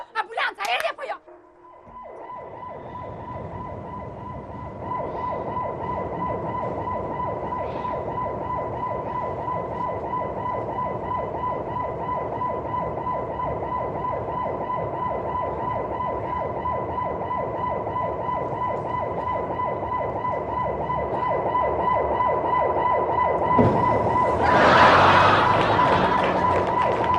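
An ambulance siren wails steadily and loudly for most of the stretch, cutting in after a brief burst of noise at the start and swelling near the end, with faint voices underneath.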